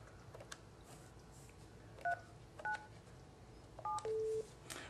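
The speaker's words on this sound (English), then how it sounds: "We will dial feature code of" Several short DTMF keypad tones dial a feature code on a Mitel 5000 business phone, spaced in quick presses with the last tone held longer, faint and clean over a quiet room hum.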